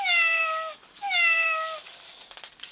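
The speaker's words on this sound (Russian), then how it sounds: "Кот." A cat gives two clear, loud meows one after the other, each a drawn-out falling cry, followed by quieter rustling.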